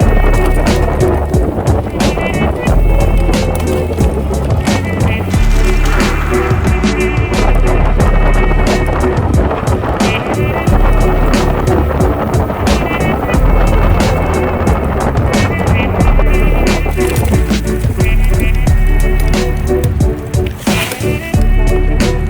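Tires of a Vitilan i7 Pro full-suspension folding electric bike roll over gravel, producing a continuous loud crunching and rattling grind with scattered sharp ticks from stones, close and without talk.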